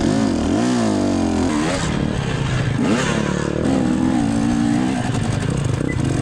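A motorcycle engine revs up loudly and close, its pitch sweeping up and down as throttle is given, then settles into a sustained rumbling drone while riding.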